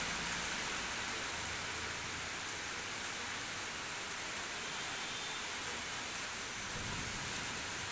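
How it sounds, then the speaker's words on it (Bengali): Steady rain pouring down on a rainy day, a dense, even hiss that holds at the same loudness throughout, with no voices. "কতদিন ধরে বৃষ্টি হচ্ছে, আরও কতদিন হবে জানি না।"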